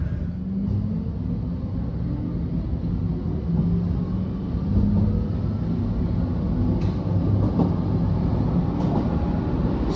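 A subway train runs steadily with a continuous low rumble and rattle of the cars, close and unbroken, with no voices.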